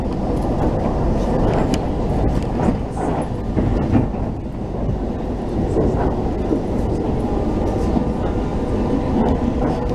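A Paris suburban train near Massy rumbles past with a heavy, continuous roar and scattered clicks and squeals from the wheels. The sound is loud and close throughout.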